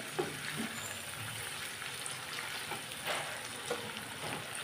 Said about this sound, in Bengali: তো এই যে একটু আমি টমেটোগুলোকেও ভেজে নিচ্ছি